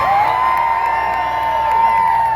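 A standing audience at a live comedy show in Jupiter, Florida keeps up a loud, continuous cheer with shrill whoops riding on top, steady throughout with no break.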